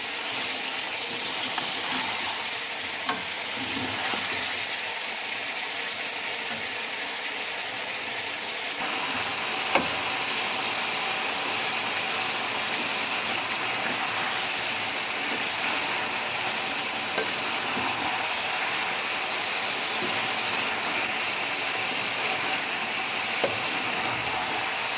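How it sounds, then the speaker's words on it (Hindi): Chicken pieces frying in oil in a pot for biryani give a dense, steady sizzle that fills the whole stretch, loud and close, with faint occasional stirring clicks and no voices. "इसके अंदर फिर हमने चिकन डाल के आप इसी तरीके से इसको फ्राई करना है"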